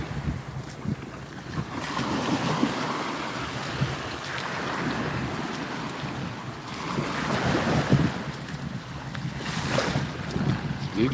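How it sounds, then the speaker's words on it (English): Surf and wind-driven ocean waves roll in at Lido Beach in Sarasota, Florida, a steady broadband wash with heavy wind buffeting on the microphone and gentle swells of louder breaking water throughout. "Lido Beach, Florida. In Sarasota."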